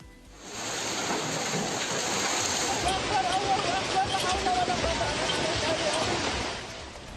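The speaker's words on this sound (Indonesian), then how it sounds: "Di sana ada hujan es bahkan, disertai angin kencang yang menerjang wilayah itu." Hailstorm with strong wind lashing a village in Tanjung Karang, a dense, loud roar of pelting ice and gusts that builds and holds steady, with a faint high tone at first and a voice over it.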